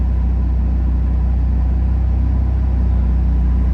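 A 2018 BMW M3 CS idling after startup, a steady deep engine drone with low rumble, loud and close, holding an even note with no revs or talk.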